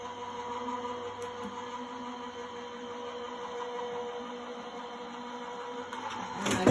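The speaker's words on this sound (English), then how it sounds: "And I'm going to run this through my Gemini machine." A Gemini die-cutting machine draws a stacked base plate, plastic shim and cutting plate through its rollers with a steady, even motor whir, ending in a short clunk as the plates come out.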